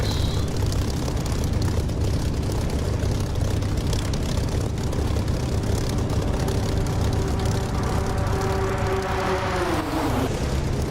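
A propeller aircraft in the DCS flight simulator game makes a low flyby, its engine droning loud and steady before the pitch sweeps sharply downward as it passes and pulls away.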